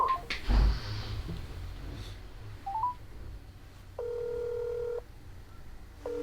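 Telephone keypad tones sound as numbers are dialled to call fortune tellers: a few short beeps, then a sustained tone lasting about a second, against a quiet background with a faint knock early on.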